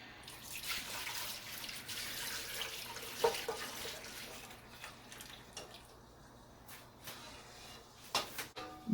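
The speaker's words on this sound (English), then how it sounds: "now I will take the 1 kg milk and just pour it in" Cow's milk pours into a pan on a stove over medium heat, a steady liquid splash and trickle that thins out into scattered drips toward the end.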